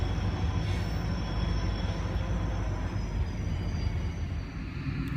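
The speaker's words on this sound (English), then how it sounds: "we then see a CSX northbound beer train with an SD40-3 leading" CSX northbound freight train led by an SD40-3 locomotive rolling past, a continuous heavy rumble of wheels and railcars with a faint high squeal, steady and fairly near, no talking.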